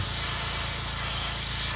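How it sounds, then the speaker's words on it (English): Steady airbrush hiss of thin candy paint being sprayed onto a custom shad crankbait, a continuous, even stream at close range with no pauses and no voices. "When you're spraying candies, you gotta be real careful because they're thin"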